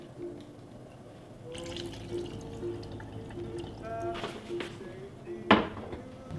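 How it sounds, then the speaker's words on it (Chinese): Water is poured into a pot of Thai long-grain rice in a kitchen, with quiet trickling, a few clinks of the pot and a brief splash, at low volume. "我开始加水了。"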